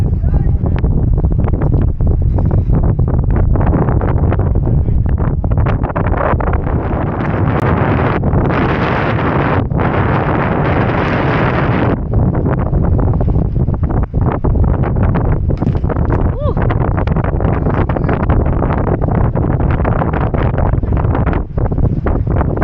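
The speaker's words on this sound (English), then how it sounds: "The only force now to contend with is the building north wind." Strong, building north wind buffeting a boat in the Panama Canal, heavy continuous roar of wind on the microphone with rustling gusts throughout.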